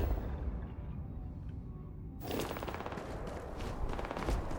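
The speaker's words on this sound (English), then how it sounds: "They're shooting something down there, but I have no idea what." Gunfire in the space game Starfield, a distant, dense burst of shots rattling below, starting suddenly about halfway through over a low rumbling background, with no one talking.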